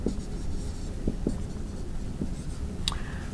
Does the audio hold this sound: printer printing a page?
no